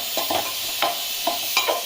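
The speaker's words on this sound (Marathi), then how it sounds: "इथं ना मंडळी मस्त भेजा फ्राय करायला लावला आहे" Bheja fry, goat brain, cooking in a pot on a wood-fired stove, a low steady sizzle broken by several short scraping stirs.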